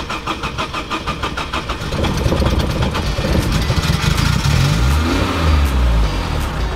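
An old Zhiguli car engine cranks in a rapid stuttering rhythm, catches, then idles roughly and revs up and down, loud and close.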